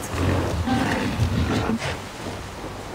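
An elk in Assassin's Creed Valhalla lets out a deep, rough, sustained roar, loud and close, with a gritty bellowing tone that fades toward the end.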